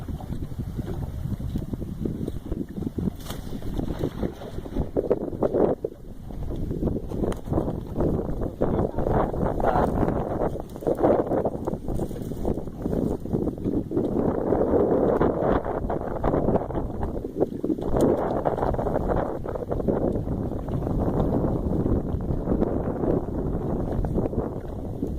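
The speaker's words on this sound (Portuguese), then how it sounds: "Tá ventando muito." Strong wind blows across a lagoon during a fishing trip by boat, loud buffeting gusts rumbling against the microphone in uneven surges throughout.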